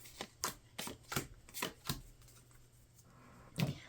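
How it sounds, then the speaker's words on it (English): A deck of tarot cards is riffled and pulled in quick snapping bursts, about eight crisp flicks in a row, then a pause and one final snap, close and clear with no talk. "So let's go ahead and pull your 3 cards here for November."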